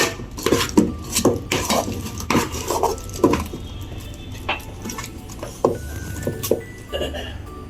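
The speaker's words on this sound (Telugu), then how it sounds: "ఇంకా ఇది బ్రౌన్ కలర్ అవ్వే అంతదాకా కొంచెం మిక్స్ చేసుకోవాలి." Curry leaves and coconut oil are stirred in a pan with a utensil, giving repeated irregular scraping clinks and taps against the metal over a low background.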